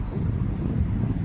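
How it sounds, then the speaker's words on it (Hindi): Strong early-morning wind near a river belt buffets the microphone on a drive around 6 am, producing a steady low rumble with gusty fluctuations and no voices. "काफ़ी तेज़ हवाएं चल रही हैं सुबह सुबह।"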